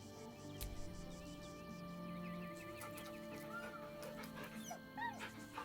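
Scratch, the dog in Baldur's Gate 3, lets out a run of short, thin whimpers and whines over a steady hum of game ambience, with no voices.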